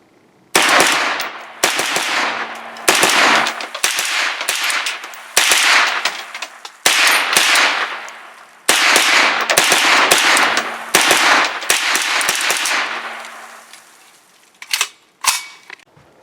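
A Kalashnikov-USA KR9 fires repeatedly at a shooting range, a long series of sharp, loud, close shots in rapid strings with brief pauses between, ending with a few spaced single shots.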